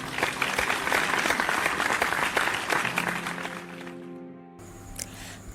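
A small group in a classroom claps steadily for several seconds, close and lively, then the clapping fades into a quiet room.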